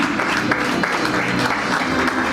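Dense, sustained applause fills a hall at a professional graduation ceremony in Togo, loud and continuous, with faint voices mixed in beneath the clapping.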